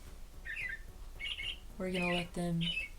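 A bird clock chiming a recorded bird song: short chirpy squawks, then two brighter whistled tones, fairly quiet and close, with no one talking.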